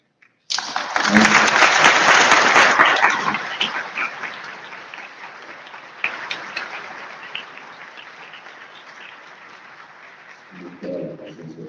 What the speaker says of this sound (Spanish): De nuevo, un fuerte aplauso